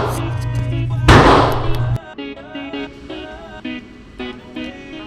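Beretta PX4 pistol fire at a concealed-carry qualification range: one loud, sharp burst about a second long rises over a steady tonal background, then quieter pops follow.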